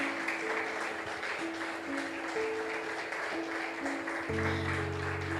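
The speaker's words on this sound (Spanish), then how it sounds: "Denle un fuerte aplauso al Señor." Congregation applauding in a church, a steady sustained wash of clapping with a low musical tone underneath that swells louder near the end.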